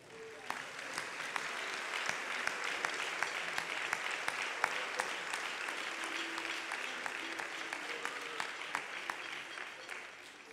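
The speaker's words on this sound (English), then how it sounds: "let's give you a round of applause" Audience applause at a middle school band spring concert, a steady wash of many hands clapping that fills the whole stretch at moderate loudness, with faint murmuring beneath.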